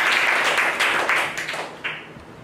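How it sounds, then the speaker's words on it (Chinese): An audience at a talk applauds to welcome a speaker, a dense, steady round of many hands clapping that gradually thins toward the end. "我们用掌声欢迎简老师，请他为我们解说这个问题。"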